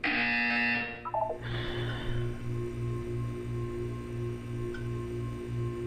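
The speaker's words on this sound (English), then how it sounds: "When you hear the buzzer, look up at the ceiling." A buzzer from the video game Portal 2 sounds loud and harmonic for about a second, then gives way to quieter, evenly spaced ticking pulses.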